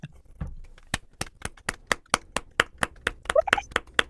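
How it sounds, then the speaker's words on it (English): Hands clap in a steady, even rhythm, about a dozen sharp close claps at roughly three per second. A few people whoop and speak briefly toward the end as a live show opens. "let's clap it in"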